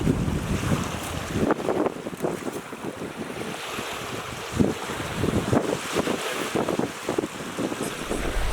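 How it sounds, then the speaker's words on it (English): Strong wind gusts and roars across the water on a canoe trip through Labrador, buffeting the microphone in a continuous loud rush, with waves lapping beneath and no voices. "The wind hasn't really died down too much"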